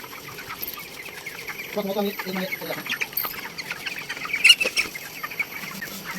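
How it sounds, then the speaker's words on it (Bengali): Chickens cluck and call intermittently at moderate distance, with a louder squawk midway and a person speaking faintly in the background. "এই যে মুরগিগুলা দেখেন"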